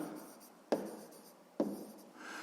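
Pen or chalk writing down a sixth-grade maths solution: soft continuous scratching with two sharp taps as strokes begin, close and quiet, with no talking.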